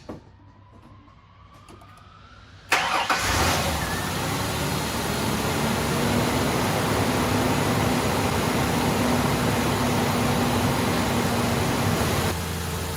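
A Ford Ranger's engine starts and settles into a loud, steady idle with a broad constant roar and a faint whine, close by, until a slight drop near the end.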